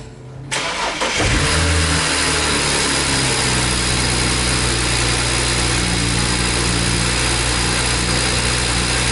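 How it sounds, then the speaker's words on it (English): A BMW 135i with misfire problems cranks and fires up after a moment of quiet, then settles into a loud, steady idle with a constant mechanical hum and no speech. "So let's go ahead and get the car started, let it warm up, and then drive it."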